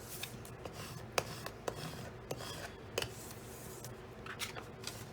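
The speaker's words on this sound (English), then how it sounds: "Then what I do if I use vinyl is give it a good rub down" Vinyl on a Cricut pop-up card is rubbed down by hand, a faint close scraping and rasping with irregular short strokes and a few soft taps.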